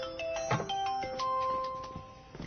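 A phone ringtone plays a melodic sequence of bright, sustained tones with chime-like notes, at moderate volume, with no voices over it.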